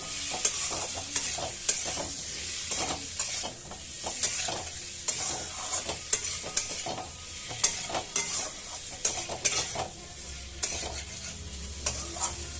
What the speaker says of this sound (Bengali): মশলার সাথে আলুটা ভালো করে কষিয়ে নিয়েছি আমি